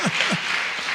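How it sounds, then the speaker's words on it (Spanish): Church congregation clapping during a Spanish-language sermon, a dense burst of applause close by, with low vocal swoops at the start. "Da un aplauso al Señor."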